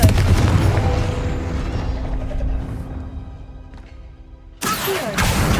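A Confringo spell in Hogwarts Legacy erupts with a heavy booming blast that rumbles and fades over several seconds, then a second loud burst strikes near the end.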